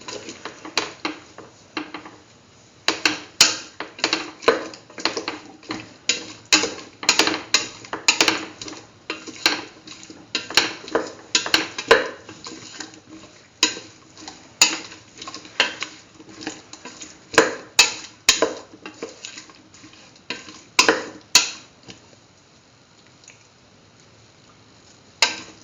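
A spoon stirs a cauliflower and chayote stew with salt in a pot, repeated wet scraping and clinking strokes in an uneven rhythm, close and fairly loud, with brief pauses and no talk.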